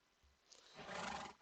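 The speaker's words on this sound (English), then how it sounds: "Now this is the slowest horse in history." A horse neighs in the Minecraft video game, a single short whinny that swells and fades within about a second, faint and alone.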